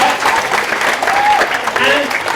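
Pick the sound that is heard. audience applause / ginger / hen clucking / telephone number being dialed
audience applause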